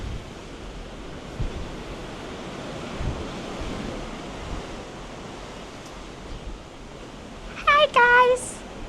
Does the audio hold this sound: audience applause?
no